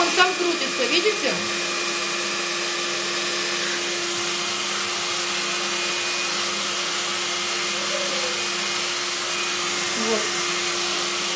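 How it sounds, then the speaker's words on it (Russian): A hair dryer whirs steadily with a constant high whine, close and fairly loud; a brief word is spoken at the start. "Вот, я беру вот этот фен."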